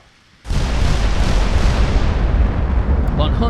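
Naval gun shells firing in the warship battle game Ultimate Admiral, a sudden loud booming blast that rolls into a sustained, dense roar of gunfire continuing for several seconds, close and heavy.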